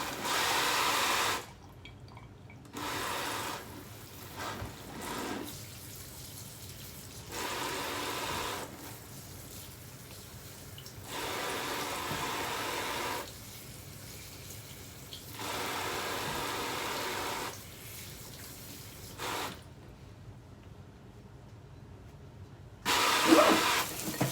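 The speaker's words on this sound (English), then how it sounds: "getting the lettuce washed and drained" Kitchen tap water runs over lettuce and a lemon being rinsed, a steady hissing splash that starts and stops in repeated bursts of several seconds each, with quiet pauses between, close by and with no talking.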